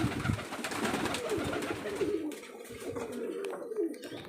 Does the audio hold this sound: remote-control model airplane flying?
no